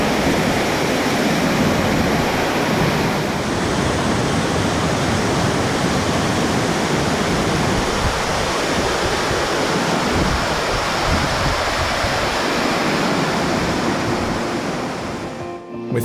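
Long Creek Falls on the Chattooga River roars as a loud, steady broadband rush of falling water, unbroken and close for the whole stretch.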